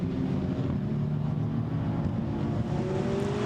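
GT4 race cars circle the Misano track during qualifying, a steady mid-distance engine drone with tonal whine that stays even throughout, with wind rush over the microphone.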